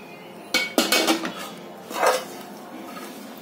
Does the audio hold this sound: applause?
no